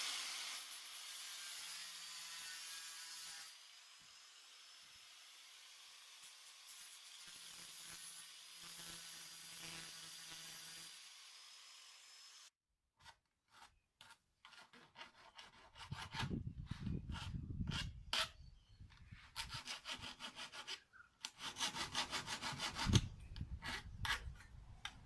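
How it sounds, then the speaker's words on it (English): A hand file scrapes burrs off the cut edge of metal angle trim for laminate flooring. A steady hiss comes first, then a quick series of short, gritty rasping strokes, close and fairly quiet. "Just remember to file off any burrs that are left behind on your angle trims."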